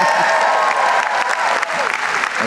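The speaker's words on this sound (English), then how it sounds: "Give him a round of applause." An audience claps warmly for a guest, a brief burst of dense, even applause filling the room for a couple of seconds.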